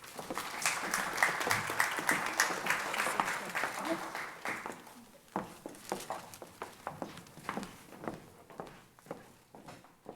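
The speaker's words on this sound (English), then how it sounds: "Please give them all a round of applause" An awards ceremony audience at a high school FFA event claps in a full burst that thins after a few seconds into scattered, separate claps from a few hands.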